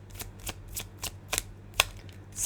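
Tarot cards from a second deck riffled and shuffled by hand, a string of quick papery flutters repeating about every quarter second, close and clear with no talking.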